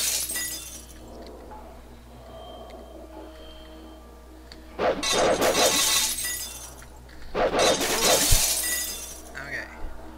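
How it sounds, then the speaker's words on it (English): Glass shard shattering in the video game EE Taoyarin, heard as two loud bursts of breaking glass, the second followed by a sharp clink, over soft game music. "I'm going to use a glass shard."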